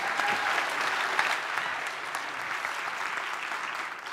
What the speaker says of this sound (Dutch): een hartelijk applaus voor hoogleraar taalwetenschappen